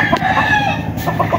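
Gamecock roosters crow and cluck close by on a game farm, several birds overlapping in a dense, continuous burst of calls.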